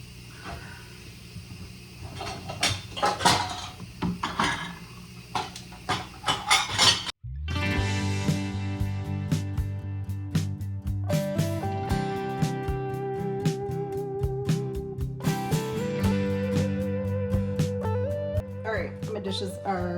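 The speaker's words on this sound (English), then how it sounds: "I guess I should start by putting some dishes away" Clean dishes are taken out of an emptied dishwasher and put away with scattered clinks and clatters of plates and cutlery, under a voice and then background music.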